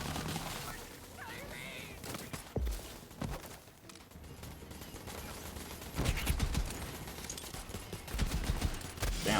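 Rapid bursts of Jakobs pistol gunfire in the video game Borderlands 3, loud sharp shots in clusters with mechanical clatter between them.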